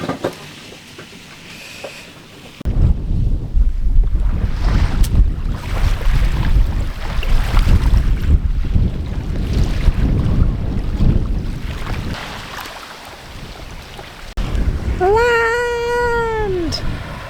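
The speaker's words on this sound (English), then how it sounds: "it is so windy out there" Strong wind on a beach in the Ragged Islands, roaring into the microphone as a heavy low rumble that rises after a quiet start and stays loud, dips briefly, then returns. A cat-like wailing cry sounds near the end.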